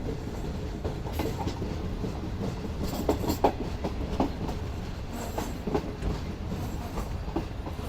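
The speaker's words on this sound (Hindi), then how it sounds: "हमारी ट्रेन अप्रोच बना रही है खोखरोपार रेलवे स्टेशन पर" A train rolls toward Khokhropar railway station in the Thar Desert, steady wheel rumble with rhythmic clickety-clack of wagons over rail joints and occasional sharper metallic clicks, moderately close and continuous, with no talk.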